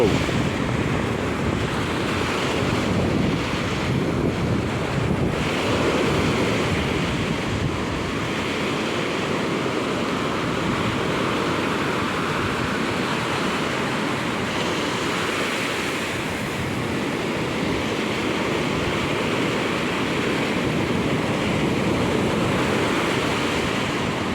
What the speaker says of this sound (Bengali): ঢেউয়ের উপরে ঢেউ উঠে যাচ্ছে